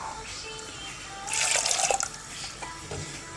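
Water pours briefly from a tap or jug into a pot of cooking lentils, a short splashing trickle rising to a burst and then tapering off, fairly close and moderately quiet.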